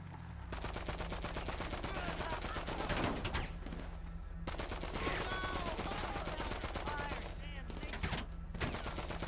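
Gunfire in a live-streamed shooting video game: a loud, unbroken stream of rapid automatic shots with occasional bursts of heavier impacts, constant and dense throughout, with no one talking.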